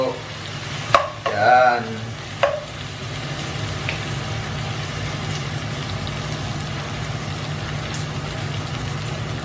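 Hotdog, egg and vegetables stirred in a pan with a few scraping clatters early on, then a steady low sizzle of frying throughout, with a brief spoken word.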